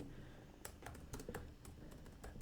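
Typing on a computer keyboard while writing HTML code, a quick irregular run of light key clicks close to the microphone, with no voice over it.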